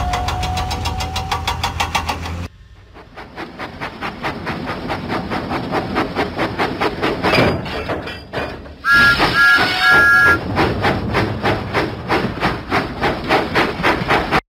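Thomas the steam engine from a Thomas and Friends video game chuffs along in a steady, rhythmic huffing beat with a brief whistle tone partway through, loud and continuous over background game music.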